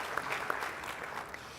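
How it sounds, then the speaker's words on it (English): Brief, soft applause from an audience at a mayors and business leaders breakfast meeting, a scattered patter of claps heard from a distance. "We'll take some applause."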